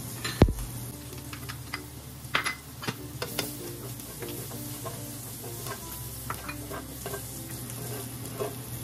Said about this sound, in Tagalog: Mainit naman yung ating mantika. Lagay natin yung ating bawang.